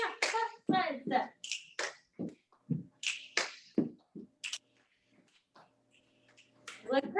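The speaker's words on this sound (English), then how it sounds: "Snap, clap, side step." Rhythmic finger snaps and hand claps repeat in a steady pattern during a Parkinson's exercise class, crisp and close, alternating with spoken instructions before a short quiet pause.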